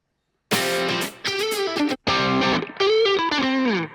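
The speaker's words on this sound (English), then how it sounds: "So keep it the same, but add slightly more distortion." Electric guitar run through distortion in a Positive Grid BIAS X AI tone setup, playing several loud, sustained chords and bends in phrases separated by brief gaps.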